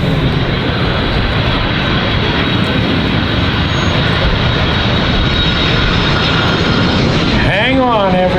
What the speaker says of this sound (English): they're going to land. We're going to demonstrate to you the short stopping capabilities of the C-5M.